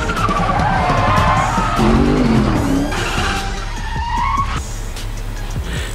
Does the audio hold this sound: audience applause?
no